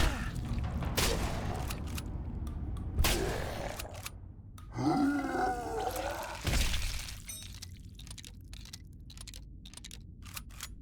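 Shotgun blasts and splattering gore as zombies are killed in the video game Nightmare of Decay, with sharp bursts, a groaning zombie and wet impacts amid a dark ambient background.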